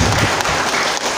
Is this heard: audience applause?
yes